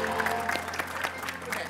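An audience applauds steadily at a dangdut music event in Indonesia, a dense, continuous patter of clapping at moderate level throughout, with some voices mixed in.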